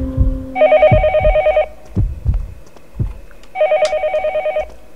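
A telephone rings in the video game Yomawari: Night Alone, two loud electronic trilling bursts separated by soft footsteps, with no talking.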